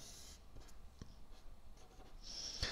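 Faint scratching and tapping of a marker or chalk on a board as a complex number is sketched, with quiet scattered strokes and a brighter rubbing stroke near the end.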